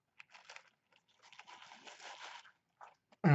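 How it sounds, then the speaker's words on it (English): Biting into a Popeyes spicy fried chicken sandwich with crispy breading gives close, faint crackling crunches in irregular bursts, then a sudden louder rustle at the end. "And the crunch of this is actually unbelievable."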